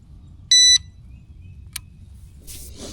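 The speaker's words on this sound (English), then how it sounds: "got my bite alarm turned on" An electronic carp fishing bite alarm at a reservoir gives one short, sharp beep, loud and close, followed by a faint click and quiet outdoor background.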